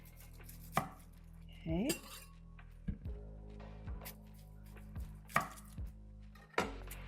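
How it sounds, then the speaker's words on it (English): A knife cuts an onion on a cutting board with a handful of separate, spaced chops and thuds. It is fairly quiet and near, and a brief word is spoken toward the end. "So I'm just trying to cut through that first layer."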